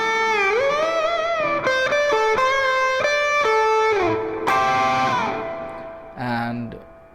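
Distorted electric guitar plays a pentatonic lick slowly, with bent sustained notes and short picked phrases, loud and close, ending in a brief sliding flourish.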